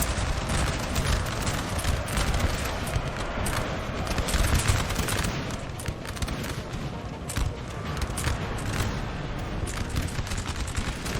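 Massed musket volleys crackle through a melee in the Napoleon: Total War battle game, a dense, continuous roll of overlapping gunfire with scattered louder bursts, close and loud throughout.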